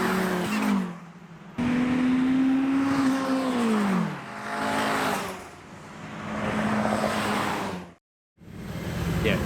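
A turbocharged race car laps Brands Hatch circuit in wet conditions, its engine rising and falling through gear changes with rising whistling tones, passing close and loud, then a brief silent gap near the end before the sound returns.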